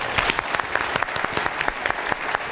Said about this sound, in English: may we please have a round of applause for Bret Stephens